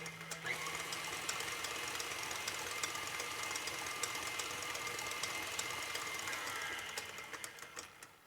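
Steady whir of an electric mixer beating vanilla bean cupcake batter at turned-up speed, a continuous buzzing motor with slight rattle that holds evenly and eases off near the end.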